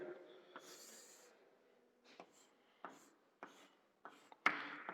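Pen scratching and tapping on paper while orbital diagrams are drawn for an iron atom's electron configuration: a near, soft writing rasp followed by several short separate strokes and taps, with no talking.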